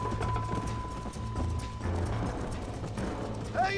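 Horse galloping in the video game Red Dead Redemption, rapid rhythmic hoofbeats close and steady throughout, with a faint whinny near the end.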